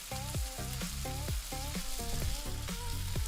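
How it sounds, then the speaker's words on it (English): Fried rice sizzles in a hot pan with a continuous crackling hiss, heard alongside rhythmic, tonal background music with regular beats. "So, yeah, it's sizzling, Cookie."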